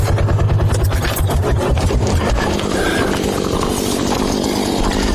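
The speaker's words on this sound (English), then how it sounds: "You go shut the chainsaw off." A chainsaw runs loud and near, its engine buzzing with a rough, fluttering roar that dips briefly before droning on steadily.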